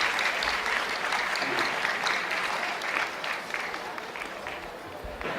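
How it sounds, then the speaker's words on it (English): A warm round of applause from the audience welcomes the chief guest to the stage, loud continuous clapping with some crowd murmur, easing off slightly toward the end. "Please give us a warm round of applause for Dr. Michael 4."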